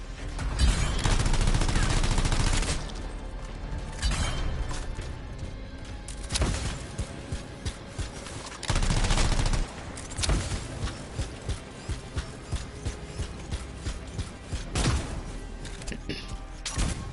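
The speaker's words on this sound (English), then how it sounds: "Stay still so I can shoot you" Gunfire in the video game Anthem as a player shoots at an enemy: dense bursts of rapid shots alternate with quieter gaps of clattering impacts and game effects, with voices speaking in places.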